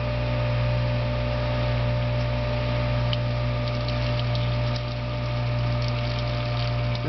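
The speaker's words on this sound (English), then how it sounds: "Turn on the machine, turn up the hydraulics, and wait for pineapple juice." A Norwalk hydraulic juicer running while pressing pineapple juice gives a steady, loud motor and pump hum with constant tonal drone throughout, no voices.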